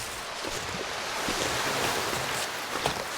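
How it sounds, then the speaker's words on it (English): Wind gusts steadily across a cold wilderness in The Long Dark, a broad, even roar with faint swells and no speech. "It's windy though."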